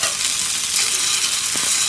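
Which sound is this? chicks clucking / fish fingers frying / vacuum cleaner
fish fingers frying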